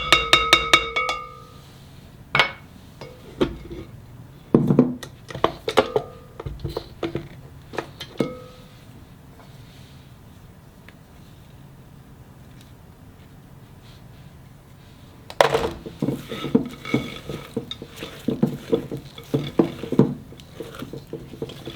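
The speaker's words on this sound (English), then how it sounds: "And you want to finish mixing by hand." Chocolate chip cookie dough is mixed by hand in a bowl, giving scattered clacks and scraping taps in bursts, then a quiet pause before another run of busy stirring knocks.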